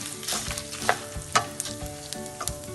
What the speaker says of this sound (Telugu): మీడియం ఫ్లేమ్లో స్లో ఫ్రై చేసుకోవాలా